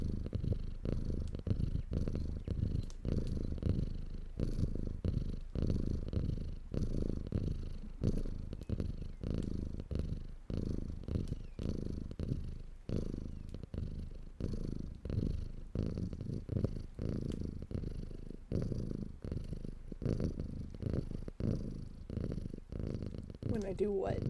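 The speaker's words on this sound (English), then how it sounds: "He's really purring today" A cat purrs close and continuously with a steady rumbling rhythm throughout, while a person talks softly over it in a home livestream setting.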